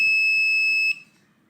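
Arduino-controlled generator transfer switch alarm buzzer sounding a loud, steady high electronic tone that cuts off abruptly after about a second, leaving a faint background hum.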